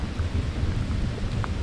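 Thunder rumbling low and continuous through an early-morning storm in Sidi Bel Abbès, a distant steady roll with faint rain patter on top and no voices.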